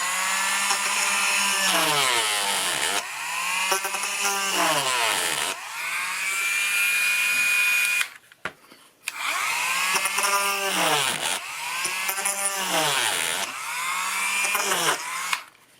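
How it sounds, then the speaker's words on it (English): A power drill whines in repeated bursts while drilling leather accordion straps, its pitch rising and falling as it revs up and slows, with brief pauses between runs. "You do need to drill the leather"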